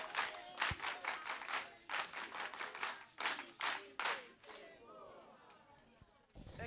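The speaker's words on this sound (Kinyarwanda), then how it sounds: "Mumpera Imana amashyi special muyimene n'icyubahiro" A church congregation clapping in praise to God, bursts of hearty group applause rising and falling in uneven waves, with some voices mixed in before the clapping fades into murmuring near the end.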